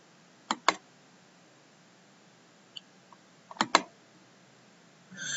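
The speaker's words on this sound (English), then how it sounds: "So you do have to type in this coding." Keys on a computer keyboard clatter in two short bursts of quick taps separated by a pause with a faint click between, close and clear in a quiet room.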